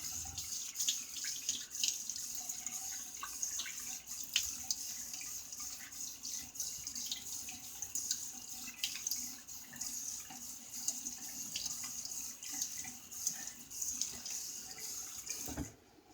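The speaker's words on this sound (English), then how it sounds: "Let me get a quick rinse here." Tap water runs continuously into a sink to rinse a vintage Williams double-edge safety razor, a steady close hiss with small splashes and drips throughout before cutting off at the end.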